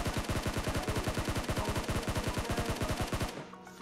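Rapid automatic gunfire in PUBG Mobile, a long fast burst of evenly spaced loud shots that stops abruptly near the end, leaving a brief quieter tail.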